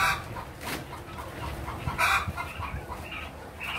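Thirty-day-old quails kept on a small farm, giving repeated short clucking and chirping calls close by, several birds overlapping in uneven bursts against low background noise.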